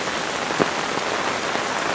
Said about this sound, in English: So this is the first really good rain we've had.